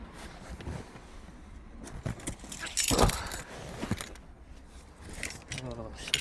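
Car keys for a Seat Leon Mk3 jangle in short bursts, with one loud rattle near the middle, amid rustling clothing, soft movement and low street ambience.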